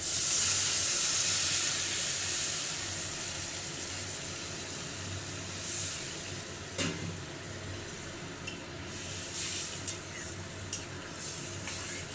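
Water added to a hot pan of Bengali potato curry: a loud burst of hissing steam at the start that fades into a lower steady sizzle with occasional clicks of utensils.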